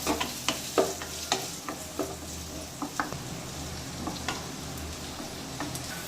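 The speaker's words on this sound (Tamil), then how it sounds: "இப்போ இதை நல்லா கிளறி விட்டுக்கலாம். கேரட் நல்லா வெந்து வரட்டும்." Carrots and capsicum being stirred in a pan while cooking for a pasta dish, with a steady sizzle under repeated scraping clicks of a utensil against the pan, close and fairly quiet, no talking.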